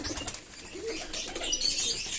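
Pet pigeons at close range give soft cooing calls as wings flap in short bursts, with a brighter flutter toward the end.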